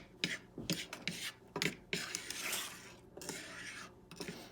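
Sofrito being stirred as it heats in a pan, with a utensil scraping and clinking against the pan in irregular strokes, close and fairly quiet, with no talking.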